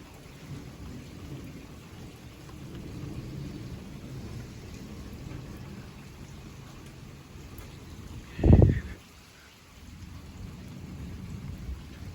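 Rain falls steadily through an Ohio thunderstorm from a mesoscale convective system, with a single loud, close crack and rumble of thunder after a lightning strike near the end, then rain continues.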